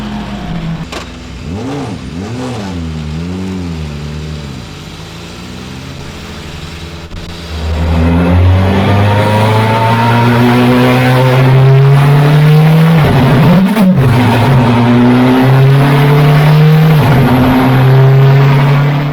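A race car engine revs and pulls away onto a wet circuit, starting as a low burbling idle with blips, then rising into a loud sustained drone that climbs steadily through the gears, close and continuous with no talk.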